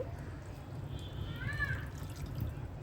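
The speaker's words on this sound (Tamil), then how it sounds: "அதுக்கு தேவையான அளவு தண்ணி சேர்த்து" Water is poured into a tamarind and chili curry of dried fish and egg simmering in a pan, a soft continuous splashing wash with a few faint drips.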